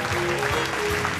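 Applause from an audience greeting a bass trombone player as band members are introduced, a steady dense wash of clapping that fills the whole short stretch without a break.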